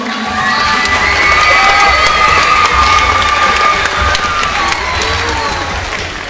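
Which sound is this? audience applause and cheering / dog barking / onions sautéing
audience applause and cheering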